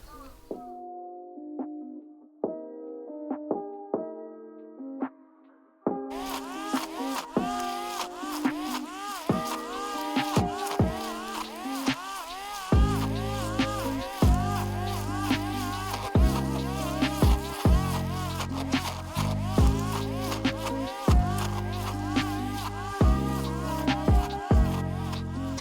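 Fiskars 18V cordless string trimmer cutting a lawn, a steady high whining buzz that starts after a few seconds of quieter sound and runs loud and continuous to the end, with small surges in pitch.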